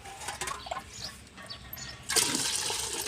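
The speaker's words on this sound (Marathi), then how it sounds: "हे तीन तांबे पाणी ओतले आपण" Water from a half-litre pot splashes into a vessel, a gurgling, trickling pour that swells into a louder gush near the end.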